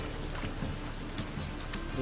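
Rain falls steadily in The Witcher 3, a soft, even patter of drops with occasional sharper taps, fairly quiet and continuous, with no voices over it.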